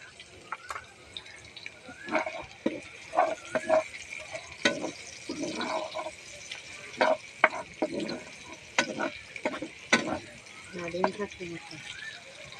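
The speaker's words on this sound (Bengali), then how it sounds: "পেস্টটা বন্ধুরা ভাজা হয়ে গেছে, বেশি ভাজবো না" A spice paste of ground cumin and coriander with salt fries in a pan for tawa chicken. A low, steady sizzle with occasional stirring runs beneath a person talking throughout.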